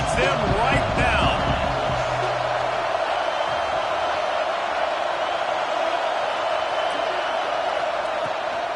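A football stadium crowd roars steadily for the defense in a broad, sustained wash of cheering, with a voice and a few louder shouts near the start.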